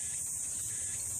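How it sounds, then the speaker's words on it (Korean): A continuous high, buzzing insect drone hums steadily throughout, like a cicada chorus, unbroken and moderately loud. "맴맴 매미 울음소리"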